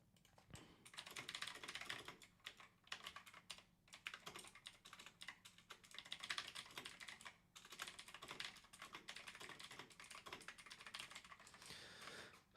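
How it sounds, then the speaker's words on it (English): Fast, heavy typing on a computer keyboard during a live Fantasy Premier League draft stream, a dense run of close, loud clacking keystrokes with brief pauses, no voices. "I don't know how loud that comes through on the mic when I'm slamming the keyboard"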